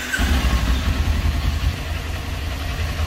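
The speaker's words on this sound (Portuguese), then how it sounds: "Vamos ligar aqui as duas motos e a gente já mostra para vocês." Two sporty motorcycles fire up and settle into a low, rumbling idle with a steady throbbing exhaust, close by and without talk.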